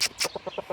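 A large adult fighting rooster of about five kilograms gives a quick run of short, close clucks: two sharp opening calls, then four softer evenly spaced ones.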